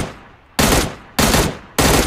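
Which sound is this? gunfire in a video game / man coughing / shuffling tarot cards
gunfire in a video game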